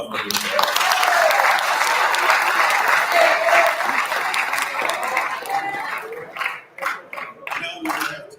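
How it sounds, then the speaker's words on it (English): An audience at a student of the year awards event applauds in a sustained, loud burst of clapping that tapers into scattered claps, with a voice starting to speak near the end. "so let's give a round of applause"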